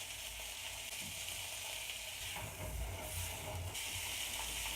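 Bacon frying in a cast iron pan, giving a steady close sizzle and hiss with faint clinks from the pan.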